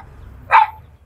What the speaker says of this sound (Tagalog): Tapang ng aso.